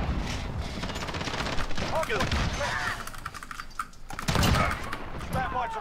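Rapid bursts of MK2 gunfire in a video game crackle repeatedly through the clip, mixed with clicking keys and game noise under intermittent talk.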